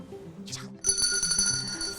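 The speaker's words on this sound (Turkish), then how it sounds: "Sarı masa zili çaldı." A single bright ding from a yellow desk bell rings out and lingers with a shimmering metallic ring, preceded by a brief rustle, close and moderately loud.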